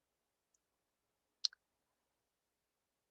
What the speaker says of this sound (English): So I would go ahead and click check return.